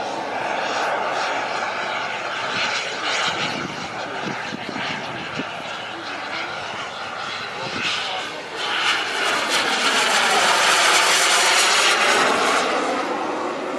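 A model jet airplane engine buzzes loudly and continuously on a low pass with flaps and gear down, its pitch sweeping and intensifying toward the end, with a voice talking underneath.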